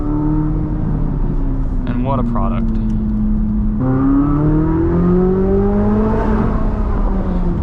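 A 2023 Chevrolet Corvette Z06 revs its engine on the move, a steady droning note climbing in pitch as it accelerates, with someone talking over it.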